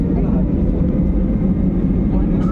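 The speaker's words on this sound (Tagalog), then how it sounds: "sa ngayon po palipad na po ang ating sinasakyan eroplano" A passenger airplane on a flight to Davao gives off a deep, steady engine roar inside the cabin during takeoff. A person talks over the continuous low drone.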